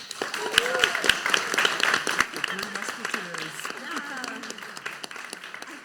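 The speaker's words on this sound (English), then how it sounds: "Let's give a round of applause" Applause from an audience at a student election question time fills the clip, a dense patter of many hands clapping, with some voices and cheering mixed in.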